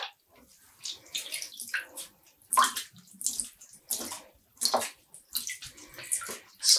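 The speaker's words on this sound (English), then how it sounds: "Squeezing out the water." Water squeezed and wrung from freshly dyed yarn by hand, heard as a run of wet splashing squelches and drips in bursts, close and fairly clear with no talk.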